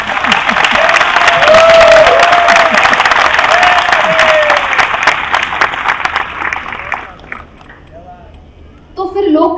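An audience at the Hindustan Mail Mahotsav breaks into loud, dense applause, with sharp hand claps filling the first seven seconds before tapering off into quieter sound at the end.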